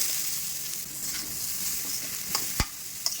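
Half a kilo of grated carrot sautés in ghee with cashews and raisins in a pan, giving a soft, continuous sizzle while being stirred, with a few sharp scrape clicks near the end.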